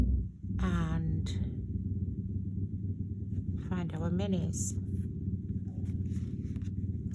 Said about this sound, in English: Sounds like there's a motorbike just stopped outside the shop.